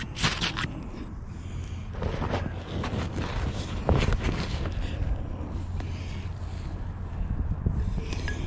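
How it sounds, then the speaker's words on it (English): Wind buffets the microphone outdoors, steady rough gusts throughout, with faint rustling and handling noise mixed in. "It definitely wants to, but it seems like there's a lot of wind."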